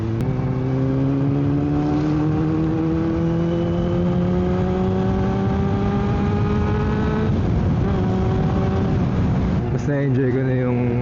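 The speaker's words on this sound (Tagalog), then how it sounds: "Mas na-enjoy ko na yung pagbirit dito. Kasi yung exhaust niya di na ganun kabulahaw." Motorcycle exhaust revving through Kaybiang Tunnel, a steady engine drone with rising and falling pitch and several gear changes, echoing and loud throughout; the rider is a CB400 or Z650 on a tunnel ride, and a voice talks faintly over it.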